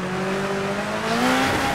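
A race car in Gran Turismo 7 accelerating in first gear out of a slow corner, engine note climbing steadily and loud, with a hint of tire squeal as the power comes on.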